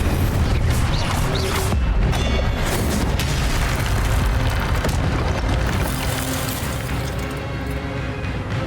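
Incendio fire spells cast in Hogwarts Legacy: booming, whooshing bursts of flame rolling over dense, continuous game noise, loud and close throughout.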